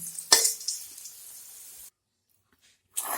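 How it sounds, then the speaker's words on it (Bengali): Green peas fry in a hot pan, a soft sizzle with a sharp clatter as they go in, then quiet before the sizzling returns. "আমি একটু মটরশুঁটিগুলো ভেজে নেব।"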